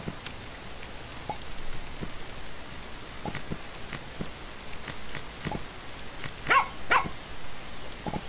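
A dog barks in the video game Plantera, giving several short, fairly faint yaps spread out over a quiet background with no talking.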